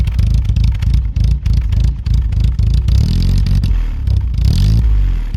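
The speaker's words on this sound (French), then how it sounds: "Le son d'un échappement inox." A Peugeot 203 engine with a stainless steel exhaust, close and loud, a deep throbbing idle with rhythmic pulsing and a couple of revs, running alone without talk.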